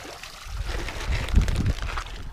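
Water sloshes and trickles near the shore as someone steps from a Kevlar canoe into shallows among rocks, a short close splash that swells in the middle then settles.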